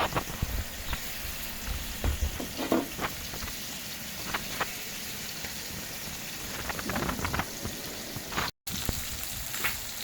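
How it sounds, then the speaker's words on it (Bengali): Oily fish frying in hot oil in a pan makes a steady crackling hiss for the whole stretch, with scattered sharper pops and spits close by. No one talks. "আমি এবার তেল মাছ ভেজে নেব"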